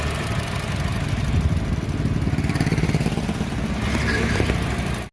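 A used car's engine runs steadily after being started during a pre-purchase inspection, giving a loud, close mid-pitched idle with a slight rhythmic clatter that continues throughout and cuts off abruptly at the end.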